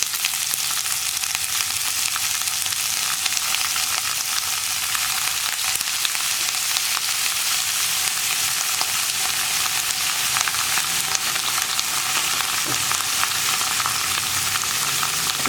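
Cabbage and curry leaves fry in a hot pan, a dense, steady, loud sizzle lasting throughout with faint stirring scrapes underneath and no voices.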